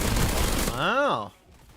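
SMG fire in the game SPRAWL comes as a short, dense rattling burst, followed at once by a brief spoken voice.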